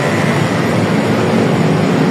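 Strong wind blows steadily in a loud, unbroken roar buffeting the microphone, with no voices.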